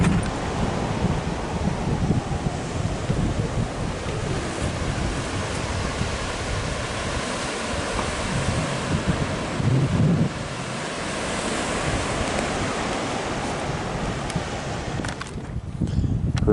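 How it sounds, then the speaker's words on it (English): Steady ocean surf and gusting wind on a California beach below grassy bluffs, a continuous broadband roar with wind buffeting the microphone throughout and no talk. "You know what's right over this hill? The ocean!"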